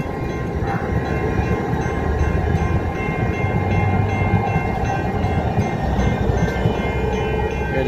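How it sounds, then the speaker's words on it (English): A train pulls in with a steady, broad rumble and faint rail rattle, heard over continuous outdoor city noise at moderate distance with no talk. "Here comes another train coming in."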